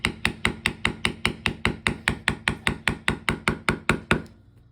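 A mallet strikes a leather beveler in sharp, evenly spaced taps, about four per second, close and clear with no talking, stopping after roughly twenty strikes.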